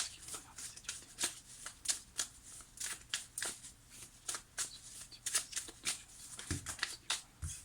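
Tarot cards shuffled by hand in a steady, repeated riffling rhythm, close and crisp, with a couple of soft thumps near the end and no voices.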